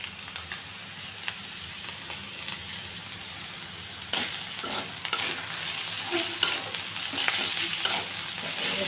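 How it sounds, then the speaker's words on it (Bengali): Garlic and gram flour fry and sizzle in a pan, with steady crackling broken by sharp scraping strokes of a stirring spoon, the stirring growing more frequent and louder in the second half; no one speaks. "বেসন দিয়ে আর একটু ভাজা"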